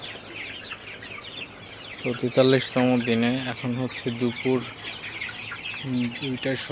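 43-day-old Sonali chickens cluck and murmur nearby in hot, humid weather, steady and moderately loud, while someone speaks over them.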